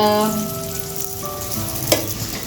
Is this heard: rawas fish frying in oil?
yes